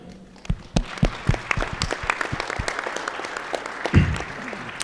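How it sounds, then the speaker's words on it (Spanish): Applause at a weekly political assembly builds from scattered claps into irregular clapping by a modest crowd, with a brief murmur near the end. "Desde aquí les mandamos un fuerte aplauso."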